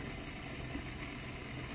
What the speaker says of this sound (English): So that's the water swooshing around.